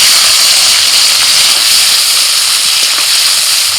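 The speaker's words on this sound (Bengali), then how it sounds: "তেলের মধ্যে ফোড়নে দিচ্ছি কালো জিরে কাঁচা লঙ্কা টমেটো কুচি" Black cumin, green chilies and chopped tomato sizzle in hot oil, a loud, close, steady hiss that fills the whole moment without pause.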